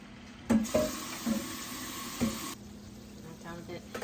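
Tap water runs steadily into a cooking pot in a home kitchen, a bright continuous splashing stream that cuts off partway through, with a few clanks of cookware close by.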